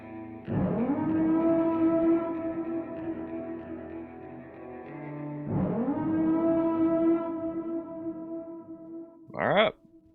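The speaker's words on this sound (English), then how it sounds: "we got the purge siren coming in too" A purge siren sound effect inside a song sounds twice as a loud, rising then sustained wail, each lasting several seconds, and ends with a short sharp whoop.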